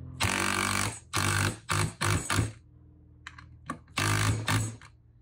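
A cordless impact driver sinks a lag screw into wood, firing in several loud, close rattling bursts separated by short pauses, alone with no talk.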